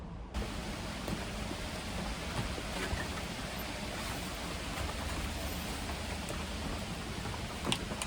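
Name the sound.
rain falling on outdoor spray booth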